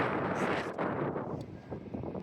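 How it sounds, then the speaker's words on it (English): Gusty wind at a railway line buffets the microphone with a constant rumbling roar that swells and dips. "It's so windy as well right now."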